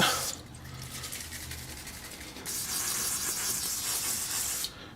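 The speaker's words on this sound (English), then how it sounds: "I'm going to take just WD-40 Give everything just a little bit of a shot" WD-40 sprayed from an aerosol can onto the final drive of a Kawasaki Vulcan 1600 Classic motorcycle: a few close, loud hissing bursts, the longest lasting about two seconds before stopping abruptly.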